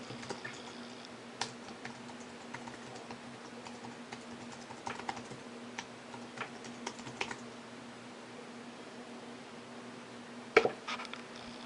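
Fingers tap out a login on a computer keyboard, a faint, irregular run of soft key clicks over a low steady hum, with a sharper clack near the end.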